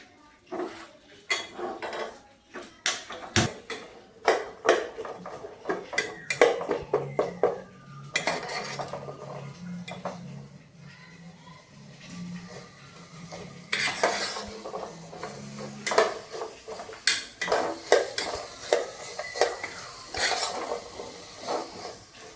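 Ghee sizzles in a pan for a Mangalorean chicken curry, with a low frying hiss underneath frequent clinks and scrapes of a spoon against metal cookware, all fairly close and with no talking.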